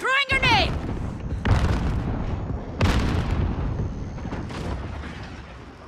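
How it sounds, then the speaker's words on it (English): A grenade blast in Call of Duty Modern Warfare 2019 during a hardcore Domination match: a sharp whistle, then a heavy low boom that rolls on among more booms and rumbling battle noise, with no talk over it. "Throwing grenade!"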